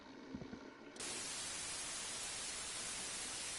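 Steady white noise behind a sleeping dock worker in Disco Elysium, switching on abruptly after a brief quiet moment with faint thuds, then holding as a constant, even hiss.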